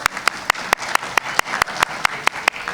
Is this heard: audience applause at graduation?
yes